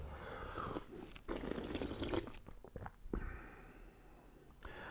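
Close, quiet slurping and sipping of oolong tea, a couple of breathy pulls of liquid followed by soft mouth sounds and a faint exhale.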